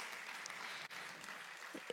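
Faint, distant applause from a political party gathering honoring a feminist contribution, a soft wash of clapping with a brief dip midway and a few small knocks near the end.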